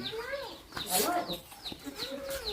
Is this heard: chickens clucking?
yes